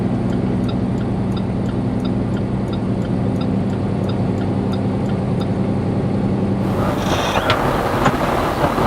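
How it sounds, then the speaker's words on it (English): Steady traffic rumble heard from inside a truck cab: a continuous loud engine and road drone with wind noise throughout, changing tone briefly near the end. "as you can see we're stuck in traffic again"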